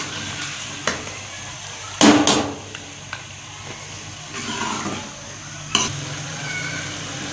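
Moringa and chicken curry is stirred in a pan over a low sizzle, with a few sharp spoon scrapes and clanks against the metal standing out.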